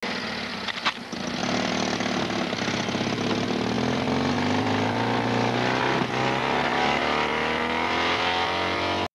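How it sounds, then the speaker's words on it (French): Guards' vehicle engine starts and pulls away, a loud rough motor roar that swells and changes pitch as it accelerates, continuous with a sharp knock near the start. "Les gardes prennent leur véhicule et partent."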